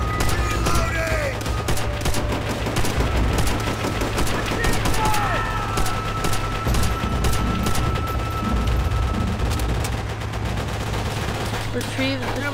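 Japanese machine gun fire in Call of Duty: World at War, rapid continuous bursts rattling loud and close for the whole stretch over battlefield noise, with voices shouting in the mix.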